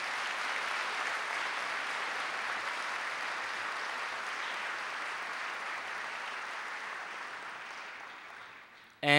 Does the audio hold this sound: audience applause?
yes